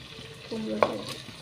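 Pumpkin pieces and potato stirred in a frying pan: one scraping pass of the spoon ending in a sharp clink against the metal over a soft background sizzle.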